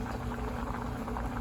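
Water boils in a covered cooking pot of rice, a steady close bubbling and rumbling roil that carries on evenly without pause.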